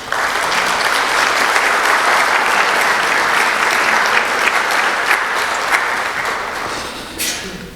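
A room full of guests at the EIU Legacy Banquet 2014 gives a sustained, loud round of applause, dense steady clapping that continues for several seconds before starting to taper at the end.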